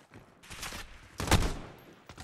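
A teammate shot by a player in a multiplayer shooter: a few sharp, close gunshots in quick succession, the loudest near the middle, alone without talk.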